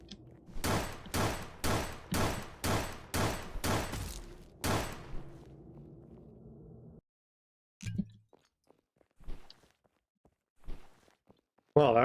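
Rapid burst of enemy gunfire in the video game Tombwater, about eight sharp shots in quick rhythm with a low rumbling tail, followed by silence and a few scattered faint thuds and clicks.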